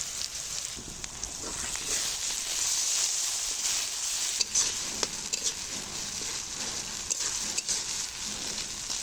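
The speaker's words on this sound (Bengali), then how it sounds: "মশলাটা আমার খুব ভালো করে কষানো হয়ে গেছে" Spiced masala with tomato, dried chilli, bay leaf, turmeric and salt frying in oil in a pan for potato curry (aloo dum), giving a steady close sizzle with faint stirring scrapes throughout.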